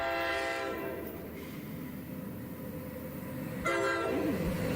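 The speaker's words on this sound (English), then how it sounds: "Here's the express to Port Jervis I chose not to get on earlier." A New Jersey Transit express train bound for Port Jervis rolls past, a steady loud rumble of wheels on rails with a sustained horn blast that swells and then changes pitch near the end.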